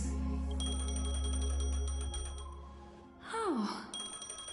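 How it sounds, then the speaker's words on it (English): An electronic tone rings in Honkai: Star Rail, repeating in quick pulses over a low drone, then breaks off. A brief falling gliss follows before the ringing starts again. "A phone."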